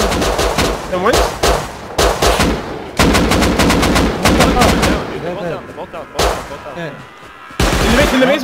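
Loud video game gunfire rattles in rapid automatic bursts while enemies are shot, broken by brief pauses, with a voice talking over parts of it.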